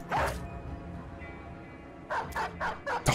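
Dog barks in the Battle Brothers video game: a sharp, fairly close bark at the start, then a quick burst of several yips and barks near the end, over low game background noise.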